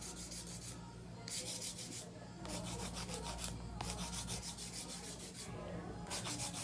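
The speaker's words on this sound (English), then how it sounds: "I'm just gonna hand file" Repeated rasping strokes of a hand file against a nail, in short bursts with brief pauses, close and steady.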